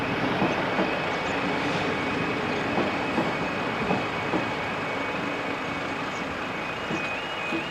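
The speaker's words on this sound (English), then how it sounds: "Arriving into the station is a Cleethorpes to Doncaster train." A Cleethorpes to Doncaster train arriving into a station on the Grimsby to Barton line, giving a steady, loud rumble of rolling stock with a faint high tonal whine running through it, and no voices.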